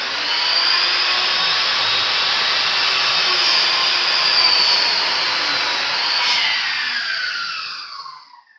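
A power saw rips lengthwise through a knotty 2x4 board, a loud sustained high whine held steady for several seconds before the blade spins down and fades out.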